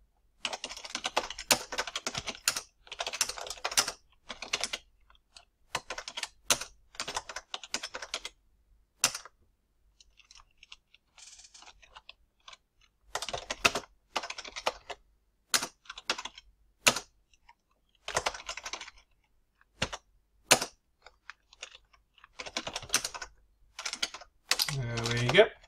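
Bursts of rapid keystrokes clatter on a computer keyboard, close and crisp, separated by short pauses with no talking.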